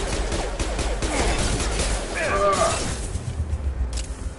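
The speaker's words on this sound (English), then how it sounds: "Flashbang." Explosive gunfire-like bursts and a flashbang grenade going off during Mass Effect 2 combat, a crowded stretch of loud blasts with a sharper burst midway, under a player's talk.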